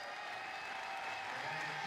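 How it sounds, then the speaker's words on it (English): Crowd at a college softball game applauding a departing player, a steady wash of clapping from the stands at moderate distance, continuous and even throughout. "Bailey Goddard exits to a round of applause in her final regular season home game as a Gator"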